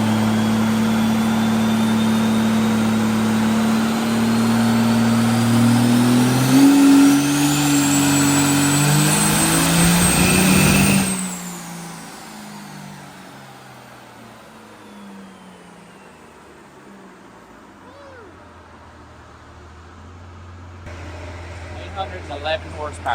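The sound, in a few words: 1400hp 6.7 Cummins diesel street truck revving on dyno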